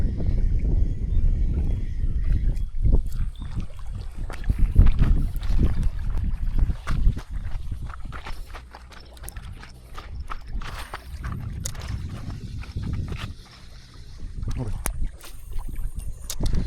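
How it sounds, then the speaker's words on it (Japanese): Gusting wind buffets a small boat out on the water, a steady rushing roar with knocks and creaks from the hull, loud and close throughout. "風が吹いてきたね。"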